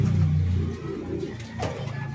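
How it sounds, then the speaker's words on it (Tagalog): Pigeons give low, soft coos near the start, followed by faint bird sounds over a quiet outdoor background. "Pumasok na rin tong isang kalapate natin na puti."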